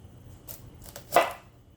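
A knife cuts the tender tops off broccoli stems, giving a few soft taps and then one crisp, louder chop nearby.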